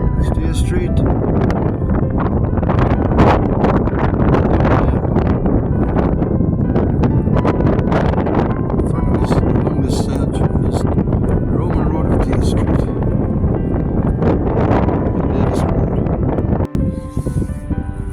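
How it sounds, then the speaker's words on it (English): Strong gusty wind buffets the microphone continuously, a loud rushing roar with rustling, briefly dropping near the end. "It's windy"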